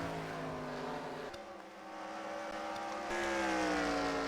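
Engine roar from race cars on track in a stock car racing video game, several harmonic engine tones droning steadily and shifting pitch as cars run laps, fairly loud and continuous with no talk.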